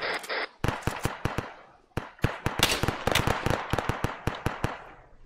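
Rapid, irregular gunfire crackles in ARMA 3 near a mosque and bunker, with dense clusters of sharp shots, some close and loud and others more distant, going on with almost no pause.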